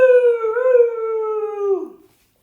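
A dog lets out a single long, high whining whimper that slides gently downward and trails off after about two seconds, close and clear, followed by silence.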